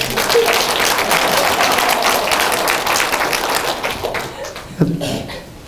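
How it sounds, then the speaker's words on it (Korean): A church congregation claps together during a Sunday service, a thick, sustained wash of applause that holds steady and then thins out toward the end, with a brief knock near the close. "박수 한번 쳐드리죠."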